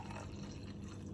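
Warm cacao drink poured from a pan into cups, a short close liquid pouring and trickling sound, fairly quiet and alone.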